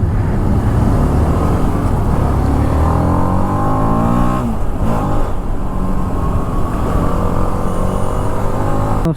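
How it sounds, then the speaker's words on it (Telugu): Weekend road traffic near Hyderabad heard from inside a moving vehicle: a loud, steady engine drone with rising and falling revs and passing cars, no talking. "వీకెండ్ ట్రాఫిక్ ఇది."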